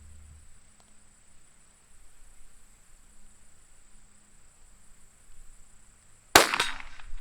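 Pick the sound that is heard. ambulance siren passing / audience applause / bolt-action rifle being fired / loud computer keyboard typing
bolt-action rifle being fired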